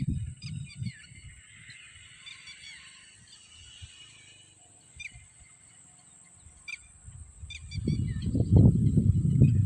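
Birds in a partly harvested village paddy field give scattered high chirps and calls at a distance over a quiet background. A louder low rumble of movement builds near the end.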